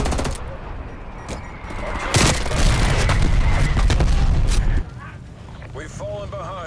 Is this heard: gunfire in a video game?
yes